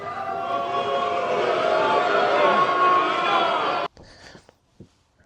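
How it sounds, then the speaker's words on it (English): Room audience at a gaming convention panel letting out a collective groan, a dense, sustained crowd murmur of many voices lasting several seconds, then cutting off abruptly into near silence with a few faint sounds. "And the entire room lets out a collective groan."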